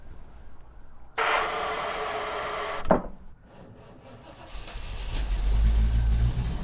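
A Chevy C10 engine, kept running on a squirt of ether starting fluid, roars with a broad hiss, then cuts abruptly and rumbles back to a rising, uneven idle. The sound is close and loud.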